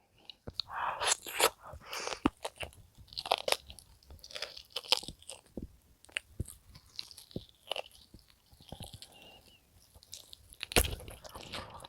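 Close, crisp crunching and wet chewing as jokbal pork trotters are torn and eaten, with irregular bites and smacking that carry on throughout without talk.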